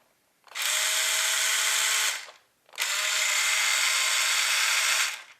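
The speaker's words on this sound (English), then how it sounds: "You take it out and the first thing you hear is the wonderful steering." The steering servo of a cheap 4x4 RC crawler whirs in two close, even bursts, each a high mechanical whine lasting one to two seconds, separated by a brief pause.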